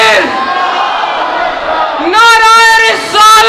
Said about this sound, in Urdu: سارے مل کر نعروں کا جواب دیں اونچی آواز میں، بلند آواز میں